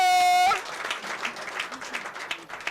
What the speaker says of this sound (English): Make una clap for this woman